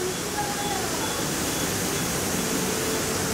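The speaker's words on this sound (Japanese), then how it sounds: "滝鑑賞エリア的なところかも。" A waterfall at a viewing area in Tokyo Disneyland gives a steady, dense rush of falling water, constant and fairly loud throughout with no pauses.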